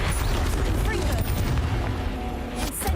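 Repeated fiery spell blasts from the Confringo curse in the game Hogwarts Legacy, dense booming explosions over constant loud battle noise for the whole stretch.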